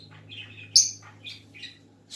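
A baby ringneck parakeet chirps nearby in a few short, high tweets, with one louder squeaky note among them, over a faint low hum.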